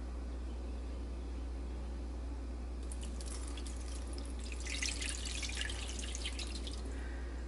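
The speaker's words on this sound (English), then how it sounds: "And I'm going to add a cup of water." Water from a cup pours into a Ninja Foodi fry basket holding beef short ribs, a faint brief splashing and dribbling lasting a couple of seconds over a low hum.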